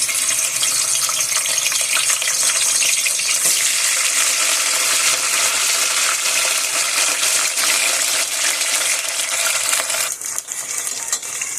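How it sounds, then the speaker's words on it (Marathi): Cut okra fries in oil with a loud, continuous hissing sizzle, close and steady, with occasional stirring scrapes and a brief dip near the end. "तर सर्वात पहिला आपण फ्राय करणार आहेत भेंडी पहिला तेलामध्ये फ्राय करून घ्यायची."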